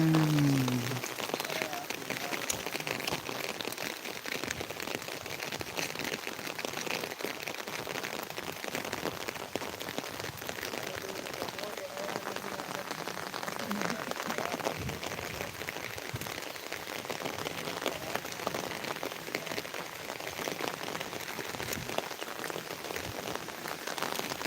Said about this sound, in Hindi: बरसात के दिन